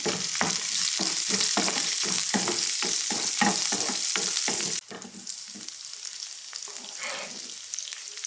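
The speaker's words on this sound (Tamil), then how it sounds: "அப்புறம் சின்ன வெங்காயம் போட்டு நல்லா வதக்கி எடுத்துட வேண்டியதான்" Shallots sizzle and fry in hot oil in a pan while a spoon scrapes and stirs in a steady rhythm, then the sizzle continues more quietly.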